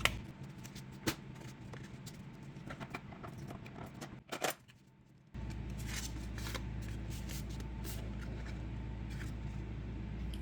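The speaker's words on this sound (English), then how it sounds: "Now that we have our die cut pieces, we'll remove the waste and complete our receipt holder." Waste paper is peeled and pulled away from die-cut letterpress pieces for a receipt holder, producing soft papery rustles and crisp crinkles, close and intermittent, with a brief louder crackle midway and a steadier background hum afterward.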